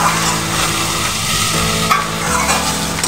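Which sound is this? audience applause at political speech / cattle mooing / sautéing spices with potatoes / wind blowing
sautéing spices with potatoes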